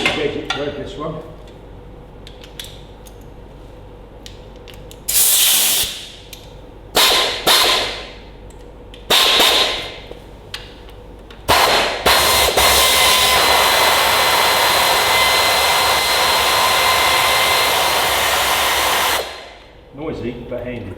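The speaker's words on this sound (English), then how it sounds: "What I have got to make life easier as well is a little air ratchet, which I'll probably use while I've got wind in my compressor." Pneumatic air ratchet driven by a compressor, used on a TEA20 tractor engine restoration: several short loud hissing bursts, then a long sustained whirring air blast, close and harsh, with faint talk before.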